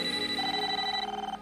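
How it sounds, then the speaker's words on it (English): A steady electronic telephone ring from an animated TV episode, with sustained high tones, loud and close, continuing without pause before cutting off at the end. "Your toaster's ringing."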